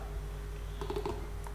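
Typing on a computer keyboard while coding a Java currency converter in Eclipse: a short burst of a few close key clicks over a steady background hum.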